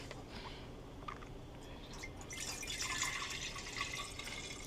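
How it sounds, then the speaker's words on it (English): Orange juice mixed with Sprite is poured back into a jar, a soft trickling, splashing stream that grows fuller midway and ends with a faint clink, quiet and close with no talk. "I'm gonna take it and pour it back into our jar"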